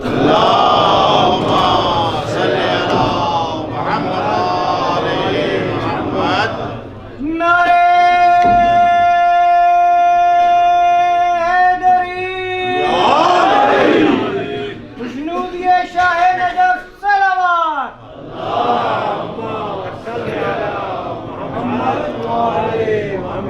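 Congregation at a majlis loudly reciting salawat in unison, a swelling collective chant broken by a sustained tonal passage, with a leading voice calling out between the responses.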